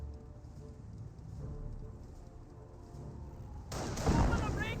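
Gunfire rakes Panzer Grenadiers in the World War II strategy game Company of Heroes 1. A low rumbling battlefield bed builds into a sudden loud, crackling burst of shots near the end.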